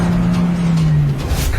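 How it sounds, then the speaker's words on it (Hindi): A cartoon car drives off as the fleeing village head escapes, a steady engine drone with a sliding tone that fades slightly as it pulls away. "वो देखो गाड़ी से भाग रहा है"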